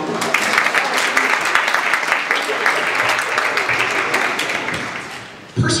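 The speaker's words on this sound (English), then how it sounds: "Would you applaud if you're a mom?" Concert audience at a wind ensemble performance applauds steadily and densely for several seconds, a broad sustained clapping that fades slightly before a sharp burst at the end.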